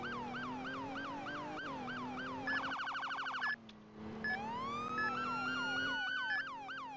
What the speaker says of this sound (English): Gonna have to have sirens on.